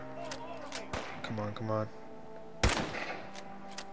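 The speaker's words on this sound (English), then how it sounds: "Okay, I'm shooting him." Gunfire in the Fallout 4 video game, a couple of sharp shots with one loud crack standing out, heard under a player's speech and game sounds.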